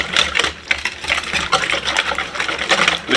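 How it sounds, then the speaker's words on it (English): Au gratin cheese sauce being whisked in a pan, a fast wet rhythmic scraping and sloshing that keeps going steadily, close and fairly loud, with no voices. "Now we're going to whisk this."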